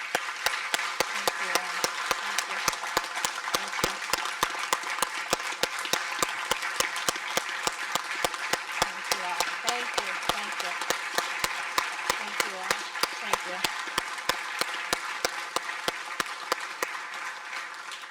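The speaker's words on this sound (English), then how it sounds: "Can we give these veterans one more round of applause?" A large crowd at a veterans recognition ceremony applauds steadily, dense clapping holding at an even level throughout, with a few sharper individual claps standing out.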